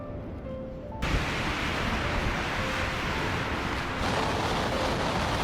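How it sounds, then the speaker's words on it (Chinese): A blizzard wind howls outside a camper van at night. A quiet interior gives way after a second to loud, steady broadband roaring and rushing that continues to the end. "窗外一场暴风雪正强势来袭"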